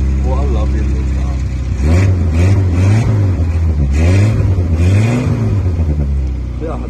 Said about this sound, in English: A little bit of an exhaust blow, but it wouldn't bother me.